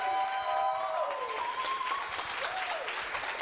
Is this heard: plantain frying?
no